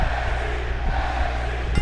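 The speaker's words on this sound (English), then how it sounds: "The crowd now continuing their NXT chant" Wrestling arena crowd at an NXT show chanting NXT, a loud, steady roar of many voices filling the space throughout.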